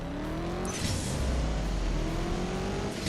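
A Toyota GR Supra engine in the CSR2 drag racing game holds a steady, loud rev with rising harmonic tones, sustained without a break for a few seconds and no talk over it.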